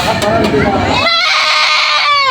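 A goat at a livestock market in Padre Garcia, Batangas bleats loudly and close, with a long wavering call following an earlier burst amid crowd noise and nearby voices.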